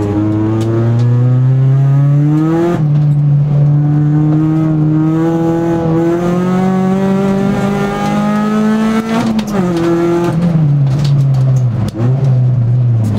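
A race-prepared Peugeot 206 RC is driven hard on track, its engine droning loud and close at high revs with slowly rising pitch. Quick blips and pitch drops come near the end as the driver brakes hard.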